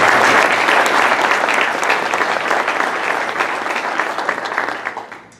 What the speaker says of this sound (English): we'd like to give a round of applause to all of our sponsors